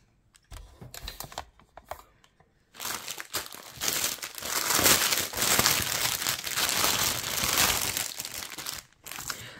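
Plastic packaging of a cross-stitch kit being unwrapped, close and loud crinkling that starts in short bursts, then turns into sustained rustling and tearing of the film.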